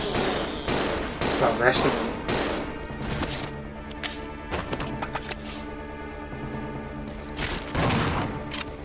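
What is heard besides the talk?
gunfire in Resident Evil 0 video game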